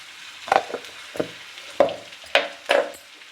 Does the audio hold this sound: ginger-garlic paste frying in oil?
yes